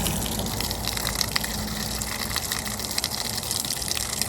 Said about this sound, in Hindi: बड़ा अच्छा लगता है ऐसे पानी डालना, पौधों को खाना देना